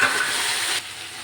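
Slit green chillies and chopped mixed vegetables hit hot oil in a pan with a loud, bright hiss that drops to a softer sizzle after a moment.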